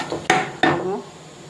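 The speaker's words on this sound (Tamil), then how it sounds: "இதை வந்து சிம்மிலேயே வச்சு நான் வந்து கிளறி" A spoon clanks twice against a pot while black gram porridge is stirred on a low flame. The two sharp knocks land close together, each with a short ring.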